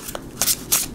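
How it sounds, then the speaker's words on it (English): Tarot cards being shuffled, two quick riffling bursts of papery flutter close to the microphone with soft handling noise between them. "2 more shuffles, please."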